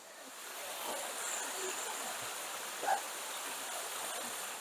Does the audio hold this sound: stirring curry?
no